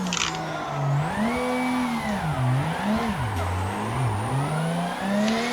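A Toyota Supra engine wailing through a drift, its pitch swooping up and down as the throttle is worked, loud and close and continuous with no speech.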